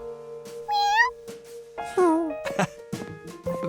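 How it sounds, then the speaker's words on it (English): A cartoon kitten gives two high, rising meows about a second apart, close and clear, set against a soft background hum and brief cartoon sound effects. "His job was to watch Professor Wiseman's new kitten, Lucky,"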